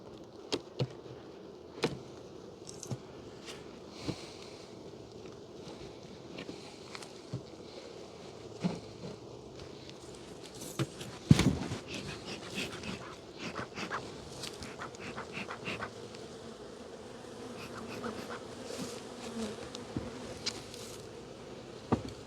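Honey bees buzzing around full hive boxes in early spring, a steady dense hum with individual bees zipping close past, alone without talk.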